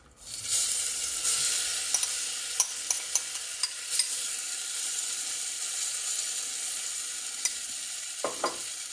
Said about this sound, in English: We're going to cook this paste in the oil.